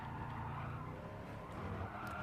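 A McLaren race car in Gran Turismo Sport brakes hard with tires skidding and squealing over a steady, loud engine roar that runs throughout. Nobody speaks.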